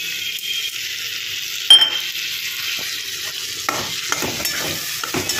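Spice paste is stir-fried with potatoes and pointed gourd for a light fish curry. A soft sizzle runs throughout, broken by a sharp utensil knock and then a string of scraping stirs and light clinks against the pan.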